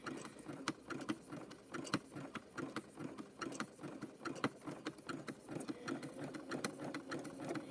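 A sewing machine stitches a rope bowl with a quiet, rapid mechanical whir broken by regular ticking clicks, running continuously at close range with no talking.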